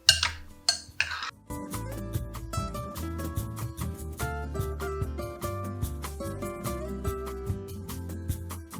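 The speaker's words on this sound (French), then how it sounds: "on termine en ajoutant le leche de tigre, on mélange le tout et on laisse mariner au frais pendant 5 minutes" A few sharp clinks open, then a long run of busy ringing tones and rhythmic tapping, up close and without talk, as Peruvian ceviche of halibut is mixed with leche de tigre in a bowl.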